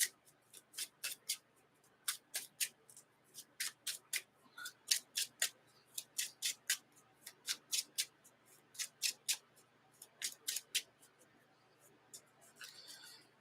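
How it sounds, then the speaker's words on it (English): Playing cards being shuffled: a long run of crisp riffling snaps in quick bursts, close and fairly quiet, repeating again and again. "Okay, got a shuffle here."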